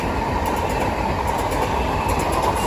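Electric train 375703 passes through New Cross station with a loud, close, steady rolling rumble, rapid wheel clatter and a bright whining hum throughout the brief pass.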